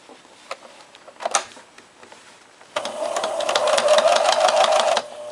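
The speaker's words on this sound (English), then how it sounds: "This helps keep the fur out of the sewing machine." A sewing machine runs steadily for a couple of seconds, stitching fur fabric along a long edge, after a few quieter clicks and handling taps. It is close and fairly loud, and nobody speaks.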